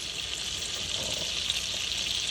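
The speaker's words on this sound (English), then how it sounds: "I'm going to first add the olive oil and a full stick of butter." Olive oil and a full stick of butter sizzle in a skillet, a steady close-up hiss and crackle with nothing else heard.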